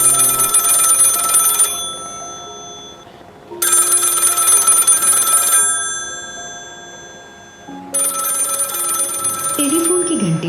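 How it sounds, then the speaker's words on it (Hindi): A telephone bell rings loud and close in three long, bright bursts separated by short silent gaps. "टेलीफोन की घंटी बजी।"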